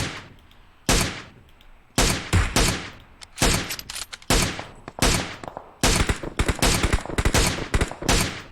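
Gunfire in the mobile shooter PUBG Mobile: sharp, loud bursts of shots in repeated clusters with short gaps between them, ringing close and dry with quick decaying tails.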